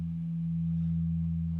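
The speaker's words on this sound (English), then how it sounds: "it sounds like a sine wave, right?" A steady, pure electronic tone hums continuously with a faint higher overtone, unchanging in pitch and loudness throughout.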